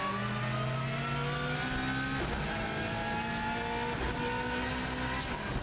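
A race car climbing a steep hill on a record TT lap, its engine screaming at high revs, stepping through gear changes with a steady, loud, close-up drone and no voices.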